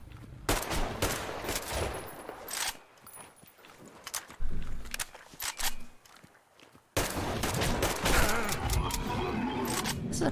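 A gun firing repeatedly in Metro Exodus, loud rattling bursts broken by short pauses and a sudden gap, then a long sustained stretch of shots with footsteps and clatter.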